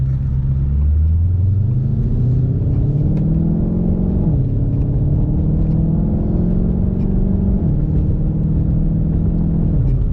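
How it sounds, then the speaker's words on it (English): A 2020 Ford Mustang Shelby GT500 engine revs hard and close, its deep rumble climbing in pitch through several long pulls with brief dips between them. "This motor revs up so high."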